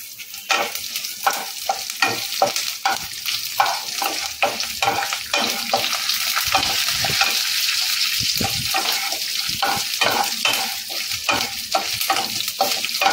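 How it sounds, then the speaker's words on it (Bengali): Chana dal, urad dal and curry leaves sizzle and crackle steadily in hot oil as a tempering for South Indian lemon rice, with repeated stirring scrapes and clinks of a spoon against the pan throughout. "ফোড়নটাকে ভালো করে ভেজে নেবো।"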